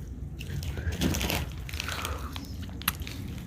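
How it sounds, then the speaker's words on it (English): Crunchy hand-rolled Polish pretzels are bitten and chewed up close, giving soft crackly crunches against faint outdoor background noise on a trail. "Hand-rolled pretzels. But crunchy, you know, like not soft pretzels."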